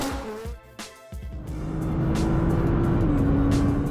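A car engine roars close and loud, building into a sustained low drone with a steady rising tone after a brief rough start, no voices present.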